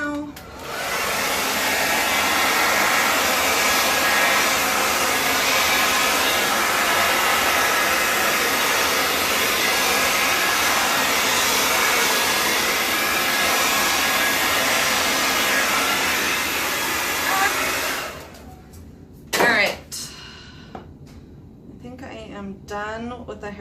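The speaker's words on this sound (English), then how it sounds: "done with the hairdryer, because if I keep going, I will end up drying the painting out" A hair dryer blows loudly and steadily on acrylic pour paint on MDF board for a long stretch, then switches off, leaving a quiet room with a few small knocks and a short voice.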